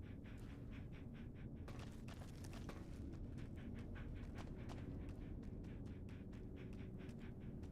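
A dog pants in the video game Fallout: New Vegas, with quick, steady, rhythmic breaths over a constant low background hum.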